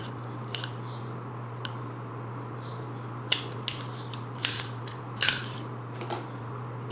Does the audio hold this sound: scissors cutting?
yes